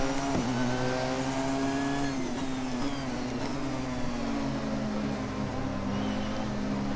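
A Porsche 919 Hybrid race car laps Spa in the Assetto Corsa racing game, its engine a steady, close droning whine whose pitch dips and climbs through gear changes, with no talking.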